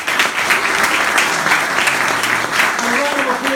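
Audience applause at the close of a presentation on supernovae, a loud, dense burst of clapping from a crowd that fills the whole moment without a pause.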